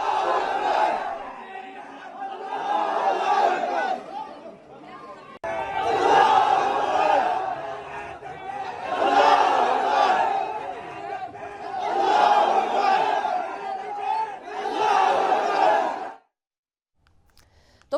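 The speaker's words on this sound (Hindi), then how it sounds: "इन जिहादियों की भीड़ ने यहां पर अल्लाहू अकबर के नारे लगाए" A large crowd of around 700 to 800 people chants Allahu Akbar slogans in loud, rhythmic bursts of massed voices, repeating in waves with brief dips between, then stopping abruptly near the end.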